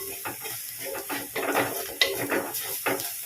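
Fish masala powder being mixed into a pan of fish roast, with close, irregular scraping and clinking of a spoon against the pan over a faint sizzle, no talking.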